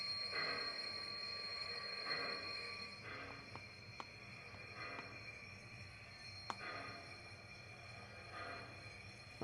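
A triplex steam locomotive pushes a coal train up a mountain grade, a faint steady rumble with rhythmic chuffing surges and occasional metallic clanks and wheel squeal, heard from a distance.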